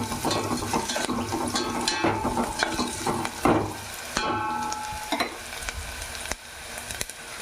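Vegetable pieces, including capsicum, frying in a pan on a stove: steady loud sizzle close by, with repeated scraping and stirring clatter of a utensil against the pan, no voices.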